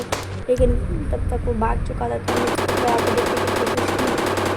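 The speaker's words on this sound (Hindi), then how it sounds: "तो मशीन गन भी चलाई" A machine gun fires in a video game, fired from a car: a rapid, steady burst of shots runs loud and continuous through the second half, while someone talks over the opening and into the firing.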